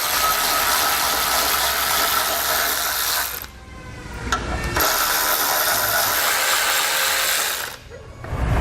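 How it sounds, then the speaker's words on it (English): A ratchet with a 12mm socket backs out exhaust guard bolts under a 2017 Kia Niro: a dense, steady clicking that runs for about three seconds, pauses briefly with a couple of knocks, then resumes at length. "we're going to take them out using a 12mm socket"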